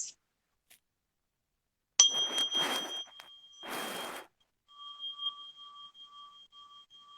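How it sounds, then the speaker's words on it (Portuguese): A small bell rung to open a meditation session gives a sustained bright ringing tone that lingers and slowly pulses as it decays, following brief rustling handling noises in a quiet room. "Então, vou tocar o sininho, para quem não conhece."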